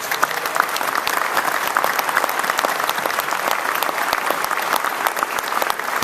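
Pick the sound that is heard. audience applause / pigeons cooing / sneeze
audience applause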